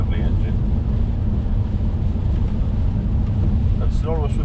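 A Volvo S80 D5 five-cylinder diesel, heard from inside the car at half throttle on a drive, gives a steady loud low drone mixed with road rumble, and brief voices come in near the end.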